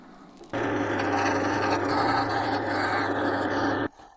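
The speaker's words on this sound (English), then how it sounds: "take my sanding board tool." Close, steady abrasive rubbing of a sanding board against wood on a segmented woodturning, a continuous dry scrape that starts abruptly, holds even for about three seconds, then stops.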